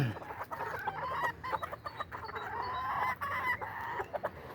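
Chickens cluck and chatter in a backyard with earth underfoot, and a rooster is among them. Their calls come near and fairly loud in a busy, uneven stream of short clucks and longer drawn-out notes.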